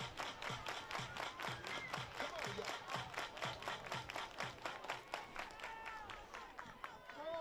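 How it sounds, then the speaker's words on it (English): Crowd at a college softball game clapping hands in a steady rhythmic beat, many sharp claps repeating about twice per second for several seconds, moderately close with general crowd murmur beneath. "Everybody clap your hands."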